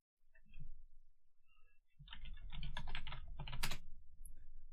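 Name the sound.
computer keyboard typing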